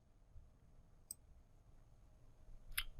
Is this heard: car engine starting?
no